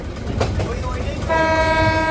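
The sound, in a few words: Haor Express train running before dawn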